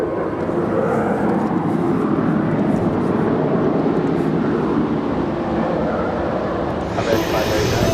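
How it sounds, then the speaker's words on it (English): A United Airlines Boeing 787-9 Dreamliner arriving from Tokyo Narita at Los Angeles International Airport makes a loud, sustained broadband engine roar, steady and close throughout, with a brighter hiss rising near the end. "As United Airlines Flight 33, it's a 787-9 Dreamliner coming in from Tokyo,"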